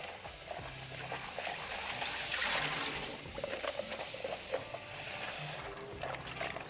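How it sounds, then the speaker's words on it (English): Carrots are rinsed under cold running water as a soft, steady stream trickles and patters nearby. "Wash them, use them with cold water."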